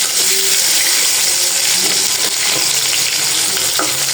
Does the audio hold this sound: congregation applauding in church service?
no